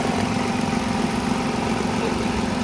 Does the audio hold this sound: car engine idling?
yes